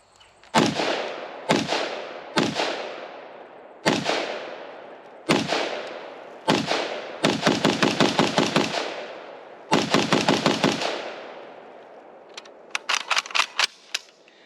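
A Spanish Army CETME-LV rifle fires at close range, first as a string of sharp single shots with ringing echoes, then in rapid bursts, and a final volley sounds fainter.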